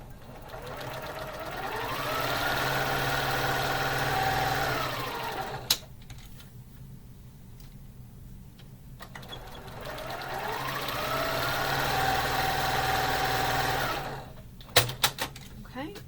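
Electric sewing machine stitching quarter-inch seams on quilt fabric squares, running in two long steady bursts that ramp up and down with a pause between, with a few clicks at the end.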